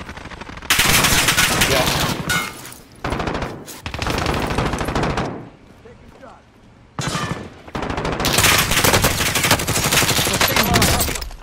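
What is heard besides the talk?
gunfire, machine gun fire in a video game battle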